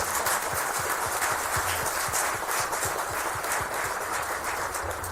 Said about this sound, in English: maybe we could do a round of applause to all the partners involved